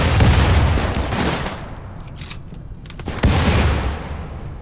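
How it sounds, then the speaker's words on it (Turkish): Bombs bursting amid a barrage of gunfire during a colony battle in the game Rimworld: dense, loud rattling shots and booming blasts, easing off midway before a sharp new explosion sets off another heavy burst. "Bak bu da bomba atıyor bak bu da bomba atıyor"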